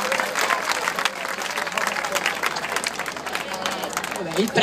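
An audience at a summer singing contest award ceremony applauds a young female singer with sustained, dense clapping that runs throughout at moderate distance, a few voices mixed into the crowd noise.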